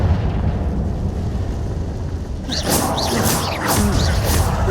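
A Confringo blasting spell explosion in Hogwarts Legacy bursts loudly after a stretch of rumbling noise, followed by crackling, whooshing debris and several smaller pops.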